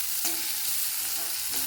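Chopped onion sautéing in a pan for a ridge gourd and peanut curry, a steady close sizzle with a couple of brief stirring scrapes, no voices.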